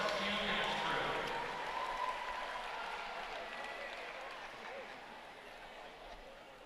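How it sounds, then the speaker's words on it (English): Audience applause and crowd noise at a school dance event, greeting the Westview Dance Crew's final performance of the year; steady, fairly distant clapping that slowly fades. "Put your hands together for the final performance of the year for the Westview Dance Crew."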